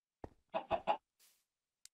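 Chickens in Minecraft give a few short clucks in quick succession, one brief note first and then three close together, followed by a faint soft rustle and a tiny click against silence.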